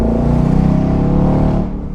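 A Ford Mustang GT with a 5-liter V8 accelerates hard, its deep, loud, steady engine roar climbing through the revs before easing off near the end.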